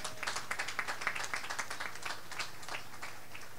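An audience at the opening evening of a national hotel-school competition applauds the students serving the meal: a spell of soft, scattered clapping, faint and somewhat distant, thinning toward the end.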